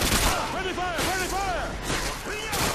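Gunfire from the video game Modern Warfare 2: sharp broadband bursts land roughly once a second, partly masked by a man's loud, excited shouting that runs over most of the clip.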